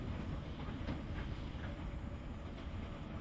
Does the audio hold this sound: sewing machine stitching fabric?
no